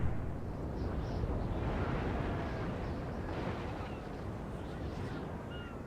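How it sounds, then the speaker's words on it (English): Naval cannon broadsides boom from warships in a Napoleon Total War sea battle, a dense rumbling barrage of overlapping blasts with no breaks, heavy and continuous throughout. "Heavy firing."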